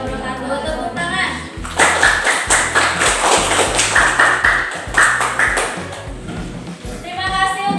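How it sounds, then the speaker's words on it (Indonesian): Audience applause in a classroom after a student group finishes its teaching-practice presentation, a steady burst of clapping lasting several seconds with voices and some thumps mixed in beneath it. "Tepuk tangan."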